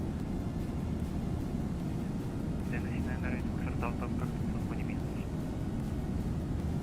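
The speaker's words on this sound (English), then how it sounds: "Made the APU louder, because the APU on the 777 is a very loud aeroplane." A Boeing 777 auxiliary power unit, simulated in the PMDG flight simulator with a Rolls-Royce sound pack, runs as a loud, steady, unbroken roar with faint whining tones drifting through the middle.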